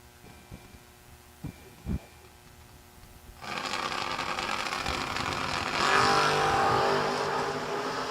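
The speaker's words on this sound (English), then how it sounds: "Big reaction time advantage going to the Chevrolet Camaro of Austin Logan." Drag race cars, a Chevrolet Camaro and a '56 Chevy, launch at a drag strip: after a few faint clicks and thumps, engines roar up suddenly and stay loud and sustained, swelling further near the end.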